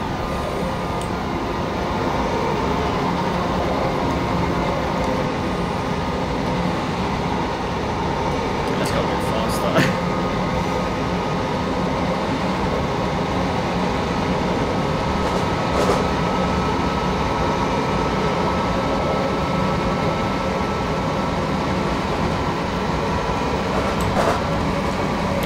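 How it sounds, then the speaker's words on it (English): A Class 378 train passing in Train Simulator 2017, on a South London to Brighton route, heard as a steady rumbling cab and rail noise with faint clicks throughout, no distinct pass-by peak. "We are going to be overtaking that class 378, so that's going to be cool."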